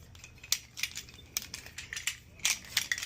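Cutters bite into armored electrical wire, producing a series of sharp, close metallic snips and crunches spaced irregularly over a quiet background.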